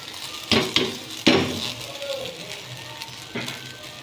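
Boiled vermicelli mixed with oil is stirred in a metal pot, with several scraping and clinking strokes of a utensil against the pan over a soft sizzle.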